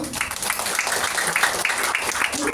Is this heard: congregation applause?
yes